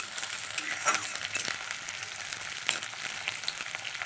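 Sliced onions sizzle in hot oil with cumin, a steady close crackle with a few stirring scrapes and no voices.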